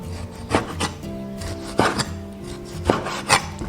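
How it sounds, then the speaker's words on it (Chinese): A knife slices beef thinly against the grain, giving several short rasping strokes in pairs, close and clear, with no voices. "牛肉尽量给它切薄一点"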